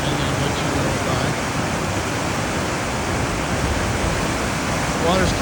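Steady, loud roar of a river rapid at Z-Drop on the Trinity River during a guided rafting trip, broadband rushing water filling the whole clip without pause.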